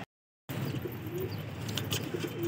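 Pigeons coo steadily inside a breeding cage, with soft, repeated low calls and occasional chirps forming a continuous close bird chorus after a brief silent start; no one speaks.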